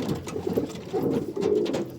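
Pigeons cooing close by in a loft, soft throaty coos repeating and overlapping steadily, with faint fluttering and no talking.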